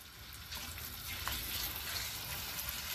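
Pieces of guinea fowl (drumsticks, thighs and wings) brown in a hot pan with a continuous, soft sizzling hiss that holds steady from start to finish, with no talking.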